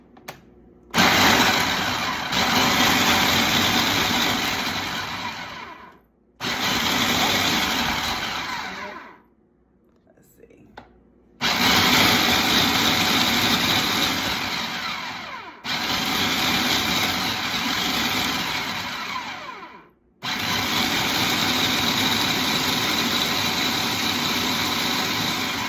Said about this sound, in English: Put it in your food processor, and you just wanna grind it up.